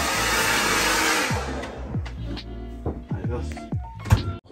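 A hair dryer blows steadily and loudly for about the first second and a half in a room in Scotland, then cuts off, leaving a few soft thumps and knocks with people talking.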